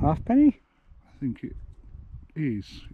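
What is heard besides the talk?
None of the usual background noises is heard.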